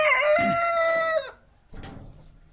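On a free-range farm keeping ornamental chickens, a rooster lets out one loud, near crow that sustains and then cuts off, followed by a brief softer call and low background noise.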